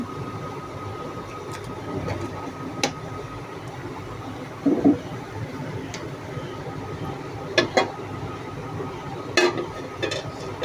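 Oil gently sizzling in a pan while a tomato dish starts cooking, a steady low frying hiss throughout with a few faint clinks and stirring knocks, close and calm, no talk.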